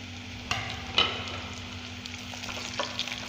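Peppers and carrot tipped into a pan of frying cabbage, giving a steady soft sizzle with a couple of sharp clatters as the vegetables drop in and get stirred.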